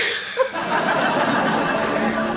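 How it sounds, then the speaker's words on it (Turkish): A telephone ringing with a bright, steady electronic ring during a game-show broadcast, heard under a busy mix of voices and background noise. "Sen bak telefona canım."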